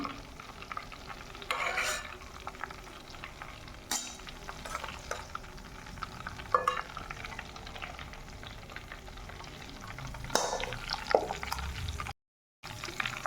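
Stuffed eggplant sizzling as it fries in a pan, with steady crackle throughout and intermittent scraping strokes of a spoon stirring, close and continuous without speech.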